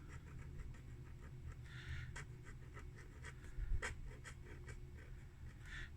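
A modified Pilot Parallel fountain pen with white ink scratches faintly across paper in quick, rhythmic strokes, soft and close with light ticks.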